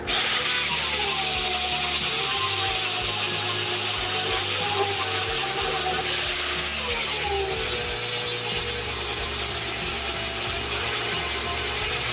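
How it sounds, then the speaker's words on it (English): An angle grinder grinds down protruding weld tacks and welds on a steel tube and pipe bender kit, a loud, steady whine running nonstop up close with slight shifts in pitch as it bites into the metal. "We're gonna be grinding these positive welds and these positive tacks so that your bender will sit flat on the table."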